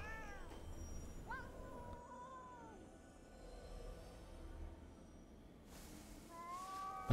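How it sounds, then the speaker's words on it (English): Several cats meow in the video game Ghostwire: Tokyo, a string of short, fairly quiet mews and drawn-out calls scattered across the stretch with pauses between them, heard alone without talk. "So many cats."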